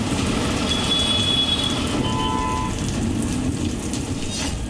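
Heavy rain pours steadily across a Delhi street, a dense continuous hiss of drops on surfaces that stays loud and even throughout, with no one speaking.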